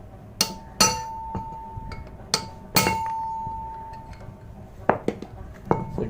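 Metal hammer blows knocking at a Royal Enfield Himalayan steering bearing, a handful of sharp ringing clinks spaced irregularly, close by, with a clear metallic ring after some strikes.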